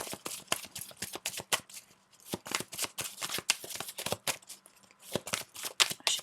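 Tarot cards are shuffled and cut at close range: rapid crisp riffling bursts in quick runs, separated by brief pauses, with no talking.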